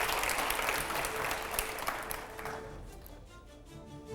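A studio audience at a TV9 news show applauds loudly and steadily, a dense wash of clapping that slowly thins toward the end.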